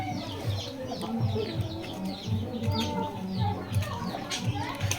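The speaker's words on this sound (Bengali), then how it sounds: "এখানে লেয়ার মুরগি দেখতে পাচ্ছেন এগুলা থেকে ডিম হয়" Layer hens cluck repeatedly in short, overlapping bursts, a busy flock close by with some background chatter and rustling.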